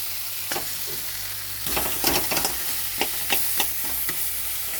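Fish-head curry with potatoes being stirred in a pan, a spoon scraping and clattering in irregular strokes over a steady low sizzle, close and clear, busier in the second half, with no talking.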